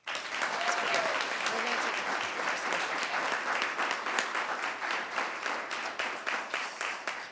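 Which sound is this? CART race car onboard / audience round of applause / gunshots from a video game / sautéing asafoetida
audience round of applause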